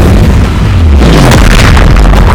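A fire spell blast from Hogwarts Legacy: a loud, booming, rumbling burst that fills the whole moment, dense and close, with low crashing energy and no talk over it.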